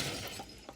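A drunk driver's car crashing into a pole in a TV drama, a brief sharp shattering crunch of breaking glass that fades quickly within a second.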